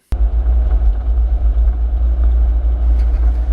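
A car cruising along an interstate in Montana, heard from inside as a loud, steady low rumble of road and engine noise that starts abruptly and holds constant.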